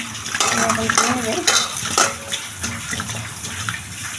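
Tulsi leaves are swished and washed by hand in water, giving close, continuous splashing and sloshing with a few louder stirring splashes, with no talk over it.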